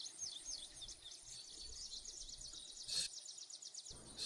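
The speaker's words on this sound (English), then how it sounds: "the sounds of birds can be heard, the sounds of, you know, forest animals" Forest ambience with a steady stream of small birds chirping and trilling at a distance, faint overall, with a brief rustle near the end and no voices.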